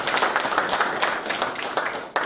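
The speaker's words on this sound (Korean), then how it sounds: "수고하셨는데 우리 박수 한번" Audience at a church building seminar applauding a pastor, a dense burst of many hands clapping at once, irregular and sustained, with a few sharper claps standing out near the end.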